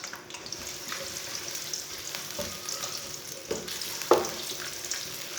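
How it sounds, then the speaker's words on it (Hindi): Medium-sized chopped onion frying in about a cup of oil while a spoon stirs it, giving a steady close sizzle with scattered scrapes and one sharp metallic clink. "प्याज को हल्का सा ब्राउन कर लेंगे। ऐसे ऐसे चम्मच चलाते हुए ब्राउन करना।"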